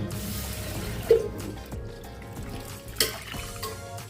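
Toor dal and moong dal lentils being rinsed in a bowl of water, soft sloshing and trickling with two brief splashes, close and fairly quiet.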